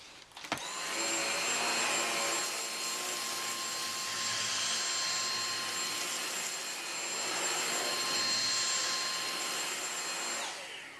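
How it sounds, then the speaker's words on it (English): A Dyson DC59 Animal cordless stick vacuum cleaner running continuously during edge cleaning along baseboards, a loud, steady high-pitched whine with a slight motor hum, starting with a click and ending as it shuts off. "Now we'll test the vacuum at edge cleaning."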